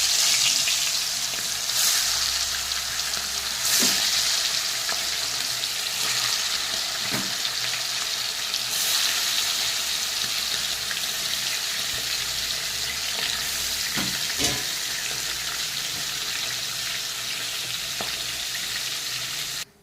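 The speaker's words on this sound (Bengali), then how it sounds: "মাছটা আমি একদম হালকা করে ভেজেছি, খুব কড়া করে ভাজবো না" Fish frying lightly in oil in a pan, a steady close sizzle that carries on throughout, broken by occasional sharp clinks and knocks of utensils, with no talk.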